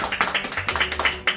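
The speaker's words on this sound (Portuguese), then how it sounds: "uma salva de palmas especiais" A brief burst of fast, rhythmic hand clapping from a small group at a family gathering, about a dozen quick claps close by, loud and even.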